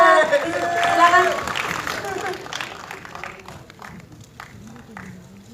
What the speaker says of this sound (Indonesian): Nah ini tepuk tangan dulu buat Gala.